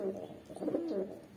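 Desi kaldum and giribuz pigeons coo nearby in a low, continuous, throaty burble that swells slightly midway through the short stretch.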